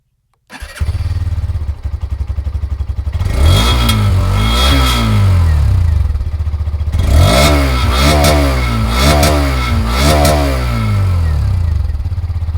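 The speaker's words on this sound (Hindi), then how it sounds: "आपको इसका एग्जॉस्ट नोट सुनाता हूँ" A Hero Xtreme 125 R motorcycle starts up, then idles steadily up close, its single-cylinder exhaust note swelling through repeated blips of the throttle that rise and fall in a rhythmic series of revs.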